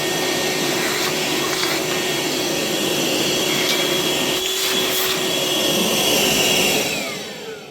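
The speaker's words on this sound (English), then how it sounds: "I guess we can suck all that stuff up with the vacuum cleaner" A vacuum cleaner runs steadily, sucking up debris from the deck of flat car 105 during its overhaul, a loud continuous whine and roar that fades out at the end.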